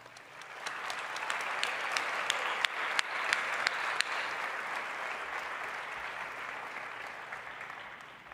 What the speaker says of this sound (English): Please join me in a warm applause.